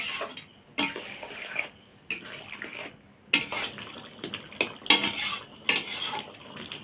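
Hot water is poured into a jackfruit curry in a pot, then the lid goes on: a splashy pour mixed with repeated metallic clanks and scrapes of utensils and cookware.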